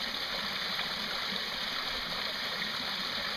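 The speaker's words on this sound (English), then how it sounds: "Running our fountain. That's our water flow." A fountain fed by a solar-powered pool pump and filter system, with a bottom-feeder pump running at about a four-foot head: a steady, close, continuous rush of splashing water with no talk over it.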